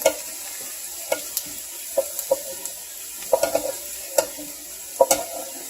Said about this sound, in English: Sure you can hear the sizzle.